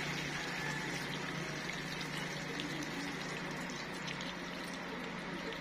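Liquid pours steadily into a cooking pot of rice with raisins and dry peas, a continuous faint gushing and trickling that stays even from start to finish.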